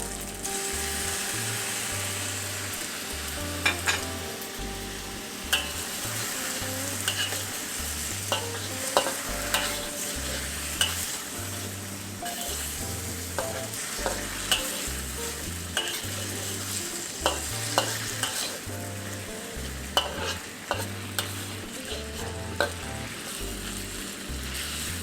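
Rice noodles for Penang char koay teow stir-fry in a hot wok, a continuous sizzle broken by rhythmic scraping and clanking of the spatula, close and steady throughout with no voices.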